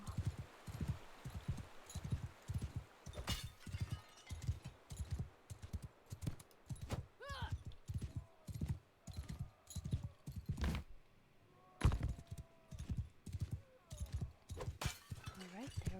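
Horse hooves gallop in rapid, steady clip-clop beats throughout combat in Mount and Blade II: Bannerlord, with occasional sharp clanks, a brief whinny and someone talking over the rhythmic pounding.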